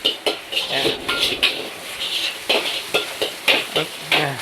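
Noodles for sardine rad na sizzling and being tossed in a hot wok, with rhythmic scraping strikes of a spatula repeating steadily over a constant frying hiss.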